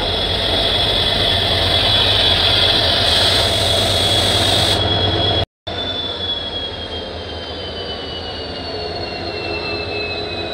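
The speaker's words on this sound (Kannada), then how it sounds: "ನಂಬರ್ 3ನಲ್ಲಿದ್ದೀವಿ ಮತ್ತು ನಮ್ಮ ಟ್ರೈನು ಬರ್ತಾ ಇದೆ." The Kannur Express, hauled by a WDP-4D diesel locomotive, rolls into platform 3 at a station, a loud steady rumble of engine and wheels with a high, sustained wheel squeal, briefly cut off midway, with no talk.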